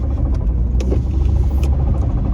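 A car engine idles with a tappet fault, giving a steady low rumble overlaid with a quick, even ticking close by.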